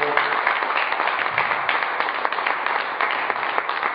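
A congregation applauds children during a church service, a dense, steady patter of clapping from many hands throughout, fairly loud and close.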